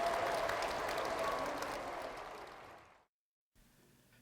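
Audience applause at a Korean Methodist church gathering: a dense wash of clapping that holds for about two seconds, tapers off and stops abruptly, followed by faint room noise.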